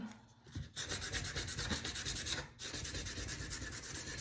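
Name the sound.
sanding with sandpaper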